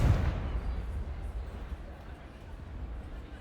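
A Confringo blasting spell goes off in Hogwarts Legacy as a single deep, rumbling burst that fades into a long low roar, loud and close.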